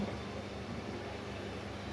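A steady low rumble and rattle fills the carriage of the Panchagarh Express, an even rail drone heard from inside the moving train with no voices.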